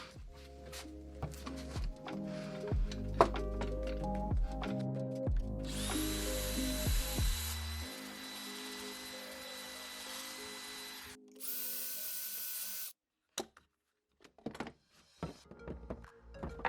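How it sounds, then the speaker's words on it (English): A power drill cuts pocket holes into wooden boards held in a pocket hole jig, whining in several short bursts and then a longer high grinding run, with thunks and clunks between cuts and no talk. "now I'll use a pocket hole jig to cut pocket holes into the boards"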